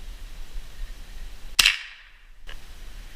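A single sharp gunshot cracks out during outdoor retriever dog training in the Temagami wilderness, followed by a brief echoing decay and a faint second knock a moment later, over quiet background.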